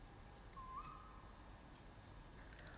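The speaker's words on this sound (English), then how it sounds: "for the twit-twoo hoot that has become synonymous with storytime owls everywhere." A tawny owl calls on a frosty winter night, a single faint wavering hoot rising out of quiet outdoor ambience, distant and brief.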